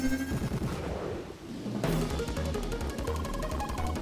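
An explosion in the video game CrossCode bursts out with booming, crackling game effects over a rhythmic music track, dense and loud throughout.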